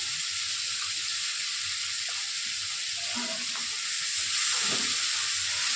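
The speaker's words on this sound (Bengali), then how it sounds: "আবার একটুখানি ভালো করে নেড়ে নিচ্ছি।" Chilli chicken with turmeric sizzles loudly in a pan over a raised flame, with a steady hiss and intermittent scraping as it is stirred.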